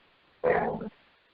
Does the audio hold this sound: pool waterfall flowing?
no